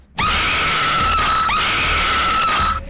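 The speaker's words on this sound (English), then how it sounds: "the scream of the little girl when this demon gets exorcised from her body" Film scream of a girl during a demon exorcism, one long piercing sustained shriek that starts abruptly and holds loud and harsh for over two seconds before cutting off.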